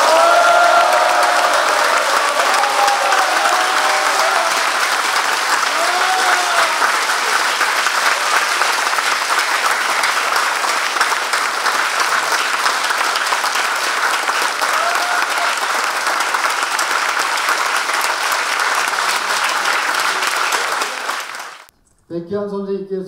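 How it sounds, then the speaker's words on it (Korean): A lecture audience gives sustained, loud applause, dense clapping going on for about twenty seconds before stopping abruptly, with a few faint voices underneath. "힘찬 손뼉을 보내주시기 바랍니다"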